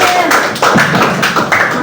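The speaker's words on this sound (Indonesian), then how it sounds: "Tepuk tangan Bapak." Elementary school pupils clap in a classroom, a loud, close burst of hand claps with uneven rhythm, and a voice speaks over them.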